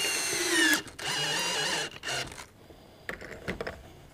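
Power drill whirring in two short bursts, then a third briefer one, driving screws into leather conchos for tapaderos, followed by quieter clicks and handling noise.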